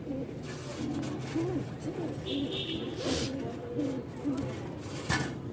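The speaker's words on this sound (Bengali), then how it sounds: "এখানে হচ্ছে 2 পিস কবুতর দেখতে পাচ্ছেন" Pigeons coo softly at a busy pigeon market in Mirpur-1, Dhaka, where Rajshahi Giribaz flying pigeons are sold, their low murmuring running steadily under the market hubbub and nearby talk.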